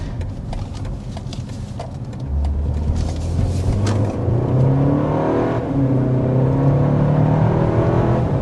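A 2025 BMW X1 compact SUV accelerates hard, its engine note rising and building in steady sweeping tones as speed climbs, heard from inside the cabin with a continuous road rumble beneath.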